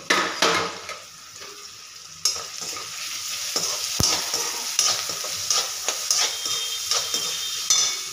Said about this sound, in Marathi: तर हा मी 2 कांदे घेतलेत बारीक चिरलेले, व्यवस्थित परतून घ्यायचे.